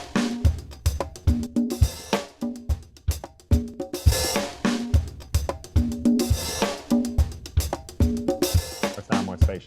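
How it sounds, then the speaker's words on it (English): A heavily compressed drum kit with a roomy, spacious sound plays a steady, punchy groove of loud kicks, snares and crashing cymbals, dense and close with no talking. "We just compress the hell out of those drums."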